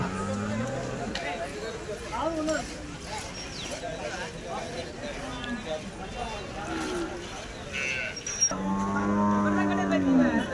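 Jersey cows moo repeatedly at a busy cattle market, the lowing rising near and loud toward the end over constant crowd chatter and people talking.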